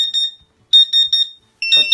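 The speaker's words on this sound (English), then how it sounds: "now when I turn it on, it will still do an alarm" A water chiller control unit with its motor unplugged sounds its alarm: sharp high-pitched electronic beeps in short repeated bursts, loud and close, with brief silent gaps and no talking.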